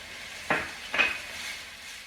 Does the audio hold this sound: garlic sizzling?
yes